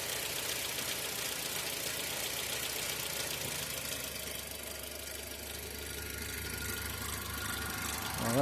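A Honda car engine idles steadily up close, a rough mid-pitched rumble with faint rattling and ticking, holding even until a slight rise at the end.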